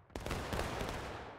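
A musket volley in the War of Rights video game, a dense crackling roar of many shots fired together that sounds somewhat distant, with a sharp onset and a sustained rumbling tail.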